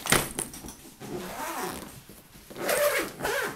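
A bag padded for a travel juicer and funnel being zipped shut, two bursts of quick scratchy zipper rasping close by, with a pause between.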